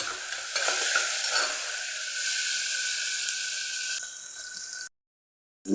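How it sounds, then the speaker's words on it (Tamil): Onions frying in a pan, a loud continuous close-up sizzle with stirring texture that holds steady, then cuts to silence near the end. "இப்போ வெங்காயம் வந்து நல்லா வணங்கட்டும்"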